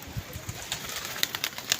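Pigeons landing at a pigeon club, soft low coos and wing flutters with a few sharp high chirps, faint and fairly close.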